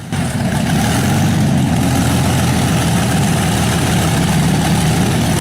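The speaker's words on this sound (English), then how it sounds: "Packard Bentley engine." A restored 1930s Packard Bentley engine of the kind built for bombers and fighters runs steadily at idle, a loud, deep, continuous rumble with no talk over it.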